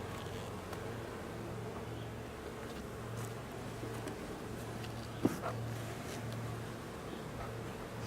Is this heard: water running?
no